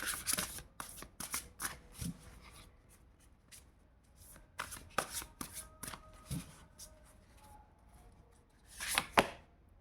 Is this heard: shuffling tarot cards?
yes